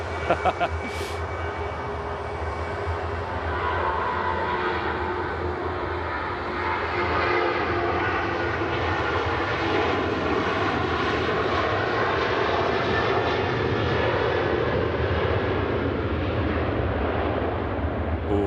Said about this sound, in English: Jet 2 737 using a lot of runway there. She rotates.